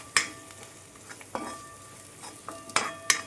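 Onion with turmeric and asafoetida being stirred in hot oil for a capsicum (shimla mirch) vegetable dish, with a soft background sizzle broken by a few sharp utensil clacks against the pan, no talking.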